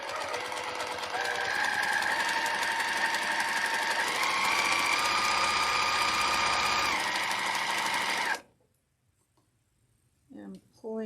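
A sewing machine stitching a fabric tissue box cover, running in a steady close whir for about eight seconds before stopping, followed by near silence and a couple of faint handling sounds.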